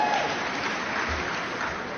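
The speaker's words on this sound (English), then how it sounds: "Those are only the white people clapping." A crowd claps steadily in response to a political speech, a dense, continuous patter of many hands at moderate loudness with no voices on top.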